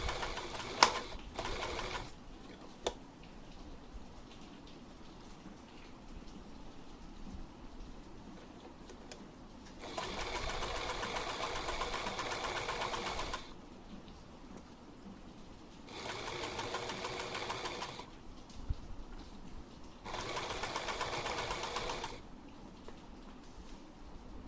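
A beginner's sewing machine stitching fabric in three steady runs of several seconds each, close and clear, with quieter handling and pin removal between the runs and no talk.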